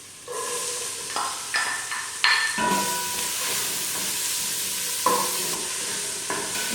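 Onions going into hot oil with salted garlic in a pan, a sizzle that swells in bursts with stirring scrapes and light clatter, nearby and fairly loud.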